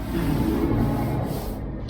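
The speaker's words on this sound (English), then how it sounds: "keep sanding this down, all of this piece down until that bit goes" Steady abrasive rubbing as body filler is sanded flat on a vintage Bedford truck, like sandpaper worked back and forth over a hard surface, close and continuous with no talking.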